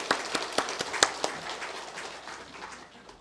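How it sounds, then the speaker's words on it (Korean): A church congregation applauding: a short burst of rhythmic, fairly quick claps that fades away after about a second and a half, leaving a soft room tail. "귀한 말씀 전해주신 담임 목사님께 다시 한번 우리 감사의 박수 하겠습니다"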